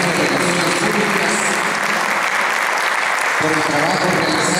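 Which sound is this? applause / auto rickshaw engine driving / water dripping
applause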